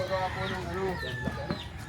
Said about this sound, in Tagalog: Nakalabas yung manok.